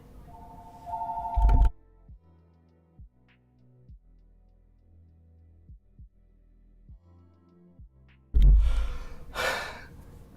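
A telephone rings in short bursts at the start and again near the end, loud and close, with quiet soft thumps in between.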